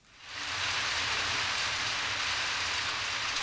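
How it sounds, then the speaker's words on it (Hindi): Steady rain pouring down, a dense hiss that swells in within the first half second and holds constant. "आओ देखो, बारिश हो रही है।"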